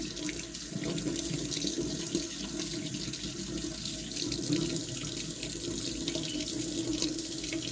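Hot water pouring steadily from a tap into a sink after a Worcester Bosch boiler repair, a constant close hiss and splash holding even throughout with no voices.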